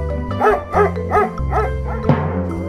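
A dog barks in a steady rhythm, about five clipped barks in a row over a children's phonics song with music playing underneath.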